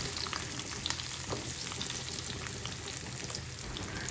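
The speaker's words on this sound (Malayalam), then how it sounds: "ഇത് തുറന്ന് വെച്ച് തന്നെ നമുക്കത് വറുത്തെടുക്കാം കേട്ടോ" Ivy gourd fries in a little oil in an uncovered pan, giving a soft, continuous crackling sizzle dotted with tiny pops. It sounds fairly quiet and even, with a faint scrape of stirring now and then and no voices.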